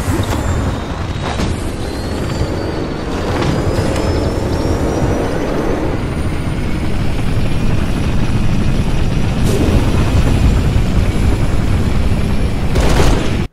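Falcon helicopter from the video game Halo Reach, a steady loud rotor drone with engine whine that holds evenly throughout, with a few brief sharper bursts layered on top and no talk.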